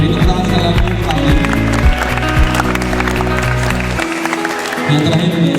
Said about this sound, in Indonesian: Beri tepuk tangan sekali lagi untuk Ali.